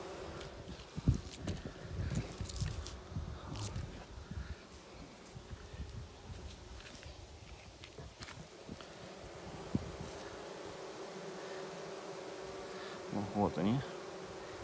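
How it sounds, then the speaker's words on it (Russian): Honey bees buzz steadily around a swarm trap outdoors in hot weather, a continuous droning hum with individual insects passing close now and then and faint rustling in the background. "Скорее всего, это старые пчелы вернулись на место"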